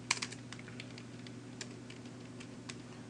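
Computer keyboard typing JavaScript into a browser developer console, a steady run of light, close key clicks over a low constant hum, with no voices.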